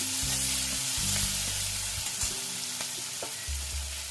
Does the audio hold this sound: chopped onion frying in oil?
yes